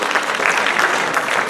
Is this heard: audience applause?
yes